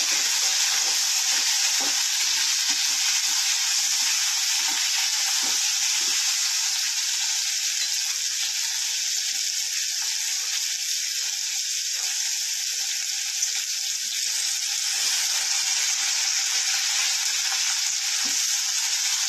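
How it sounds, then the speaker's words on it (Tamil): Tomato, onion, curry leaves, garlic and ginger sautéing in a pan for chutney, a loud, steady, close hiss of oil sizzling for the whole stretch, with faint stirring scrapes now and then. "இப்போ நம்ம கருவேப்பிலை, பூண்டு, இஞ்சி ஒரு துண்டு எல்லாத்தையும் போட்டு வணக்க வேண்டியது."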